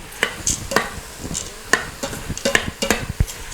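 Brown rice and dry beans are stirred in an Instant Pot set to sauté, a series of close spoon scrapes and knocks against the inner pot over a faint sizzle, irregular and spaced about every half second.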